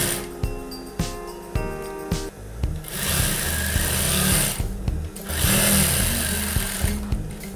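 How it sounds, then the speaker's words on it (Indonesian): A sewing machine stitches a tunic's fabric layered with stiff interfacing, running in short loud bursts with rhythmic needle thumps, then longer continuous whirring runs, close up with no voices. "kita jahit dari atas untuk mengunci kain keras dengan bahan"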